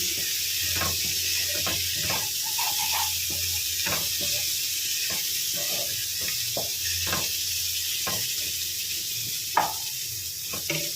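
Ridge gourd curry sizzles in a pan, a steady bright hiss running throughout with soft stirring scrapes and taps of a utensil at irregular intervals.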